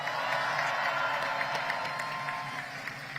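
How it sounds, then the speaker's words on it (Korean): Audience applause at a Korean political rally, a steady dense wash of clapping with some crowd noise, continuous and fairly loud throughout. "더 힘내라고 박수 부탁드립니다."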